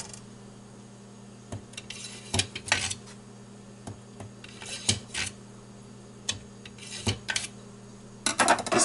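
Cheap Hampton Forge kitchen knife drawn out and scraped against wood, a series of sharp clicks and short metallic scrapes at irregular intervals, close up and alone, ending in a quick cluster of scraping taps.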